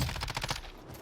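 Gunfire in the video game Warzone: a rapid burst of automatic fire, a quick string of sharp shots over roughly half a second that stops abruptly, heard alone.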